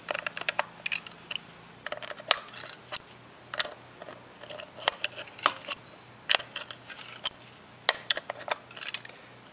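A small white plastic part is screwed back into a Harbor Freight HVLP spray gun by hand, giving close, faint clicks and ticking scrapes in an irregular rhythm.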